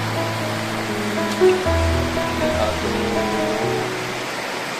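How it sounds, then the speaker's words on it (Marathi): A stream and the Siddheshwar waterfall on a trek pour down in a steady, dense rush, continuous and fairly loud under a man's brief speech. "ओढा आणि हा सिद्धेश्वरचा धबधबा खाली जातो"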